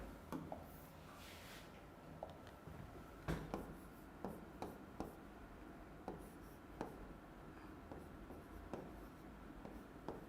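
Pen writing by hand during a chemistry lesson, quiet scratching strokes with sharp taps as the pen touches down, repeated irregularly across the clip with no voice heard.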